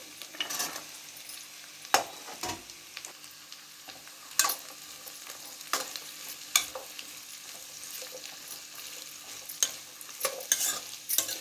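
Mixed vegetables frying in a pan, a soft continuous sizzle broken by sharp spatula scrapes and clanks against the pan every second or two, close and with no talking.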